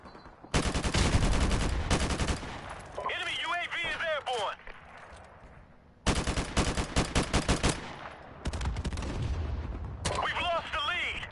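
Automatic gunfire from Modern Warfare Remastered rattles in dense, loud bursts, stopping and restarting several times, with voices speaking briefly between volleys.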